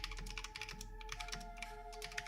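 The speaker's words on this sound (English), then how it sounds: "Listen to my clicky keyboard" Rapid typing on a clicky computer keyboard, with dense sharp key clicks in quick bursts and a short pause partway through, close and fairly quiet.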